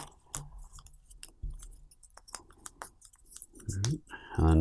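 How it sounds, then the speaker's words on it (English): A deck of board game cards for Gorinto is shuffled in a few quick riffling bursts and scattered clicks, fairly close and distinct, with quiet talk mixed in between the shuffles. "One more good shuffle here."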